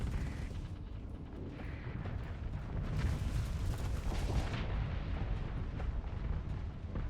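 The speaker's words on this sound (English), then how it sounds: "my Rift torpedo hit the wreckage in front of the station" Rift torpedo blowing up against wreckage in front of a station in a space combat game, a continuous rumbling barrage that swells into a louder, brighter explosive surge midway before settling back.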